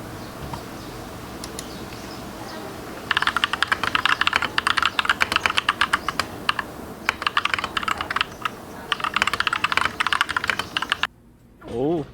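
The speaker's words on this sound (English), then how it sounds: "typing test" Rapid clacky keystrokes from a DIY mechanical keyboard with blank keycaps, coming in dense close-up bursts with short pauses, after a quiet stretch of room tone.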